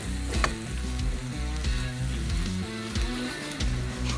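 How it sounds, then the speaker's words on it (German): Food for a sweet potato gratin fries briefly in a pan, giving a steady close sizzle with soft bubbling crackle and a few faint clinks of utensils against the pan. "Einmal kurz so ein bisschen mit anbraten."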